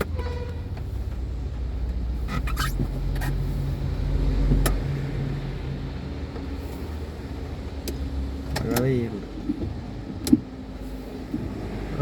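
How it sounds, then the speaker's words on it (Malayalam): A Ford EcoSport driving past gives a low engine and tyre rumble that swells and fades at moderate distance, with other faint traffic noises around it. "അത് ഫോർഡിൻ്റെ വണ്ടിയാണ് ഇപ്പോൾ പോയത്."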